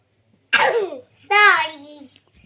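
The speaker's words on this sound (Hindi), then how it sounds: "कैसे खांसा जाता है?" A child gives two short coughs about a second apart, close and clear against a quiet background, the second cough more voiced and drawn out.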